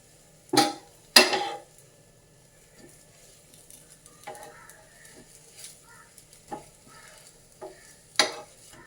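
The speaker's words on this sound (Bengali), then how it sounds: "চল এক এক করে পাটিসাপটাগুলো ভেজে নিই" Patishapta pancakes frying in a pan, with a low, quiet sizzle under several loud, sharp clatters and scrapes of a utensil against the pan, close by.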